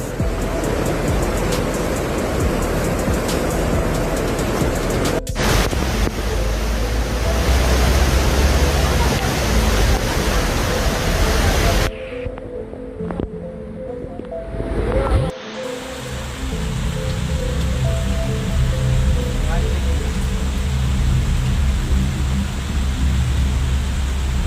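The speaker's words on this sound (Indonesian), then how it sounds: "air sungai meluap di Desa Loser" Flooded river in Aceh rushing under a bridge, a loud broad roar of fast-moving water that holds steady throughout, briefly dipping and cutting out partway before resuming.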